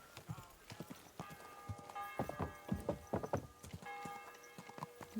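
Hooves clip-clop at a walk on hard ground in Kingdom Come: Deliverance 2, a steady uneven beat of fairly faint knocks with a soft snort near the end and a little background game noise.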